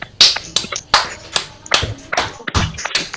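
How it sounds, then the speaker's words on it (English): Scattered handclaps from an online storytelling event audience, unmuted over a video call, arrive as about a dozen separate, uneven claps and taps, fairly close and thin-sounding, with no talk over them. "Can we unmute everyone just so we can hear them clapping?"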